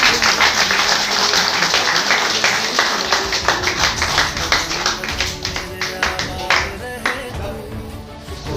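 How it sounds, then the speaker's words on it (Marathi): Loud, dense applause from an audience at a village Independence Day welcome ceremony, a steady rapid patter of many hands clapping that runs the whole stretch with slight surges. "सर्वांनी जोरदार टाळ्या वाजवायच्या"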